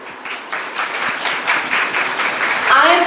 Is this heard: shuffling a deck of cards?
no